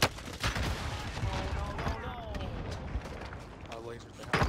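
Gunfire in a Call of Duty Warzone battle royale match, with repeated shots and bursts crackling throughout amid game noise, plus a loud report at the start and end, under players talking.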